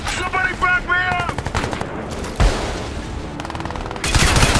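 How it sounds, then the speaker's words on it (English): An EMP grenade goes off during a Crysis 3 firefight, a burst of harsh noisy crackle and rapid gunfire-like pulses with a loud broadband surge near the end, under heavy combat din. "That was an EMP grenade"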